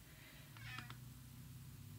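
A house cat lets out a single short, faint meow in a quiet room, brief and alone against a low background hum.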